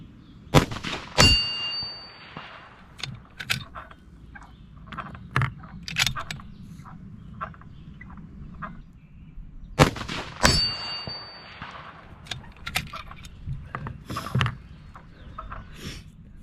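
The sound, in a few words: rifle shots hitting a freshly painted steel target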